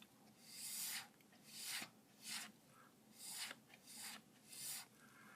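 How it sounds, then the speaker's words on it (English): Heavy black acrylic paint being scraped off a pour painting, a series of about seven rasping strokes, each a short gritty swipe, close up and fairly loud with brief pauses between. "So I'm scraping off that heavy black area"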